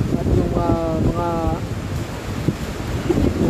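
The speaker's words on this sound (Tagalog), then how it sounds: "yung langit natin medyo malakas pa rin yung hangin" Strong Super Typhoon Rolly (Goni) wind batters Naga City near a police communication tower: a loud, continuous roaring rush with buffeting gusts and a brief whining tone early on.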